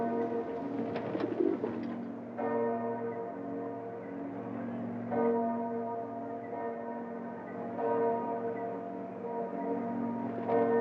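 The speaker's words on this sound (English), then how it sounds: "The pigeons are an official part of the scene" Pigeons coo steadily in a busy Venice square, soft repeated throaty calls layered over a constant low hum of crowd and city noise, with a brief burst of bustle near the start.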